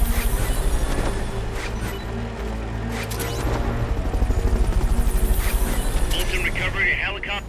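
In the video game Metal Gear Solid Peace Walker, a Fulton recovery helicopter thrums with a steady rotor chop, loud and close, with game effects, impacts and speech overlapping it.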